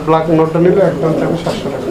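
Pigeons coo in low, rolling murmurs close by at a pigeon seller's collection, mixed with people talking over them throughout.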